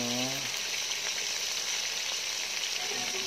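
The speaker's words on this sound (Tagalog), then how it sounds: "Ito magpiprito tayo ng marinated chicken." Marinated chicken sizzles steadily in hot oil, a dense, loud frying hiss that holds throughout with a brief voice at the start.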